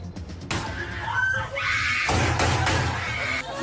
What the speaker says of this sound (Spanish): Fueron escenas de terror, disparos, gritos y llantos desgarradores de los jóvenes que intentaban salvar sus vidas.